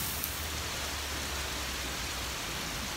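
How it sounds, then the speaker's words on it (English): Steady rain falls outdoors, a dense, even hiss of drops filling the whole scene at a constant level without pause, with no voices heard. "we're literally always getting stuck in the fucking rain"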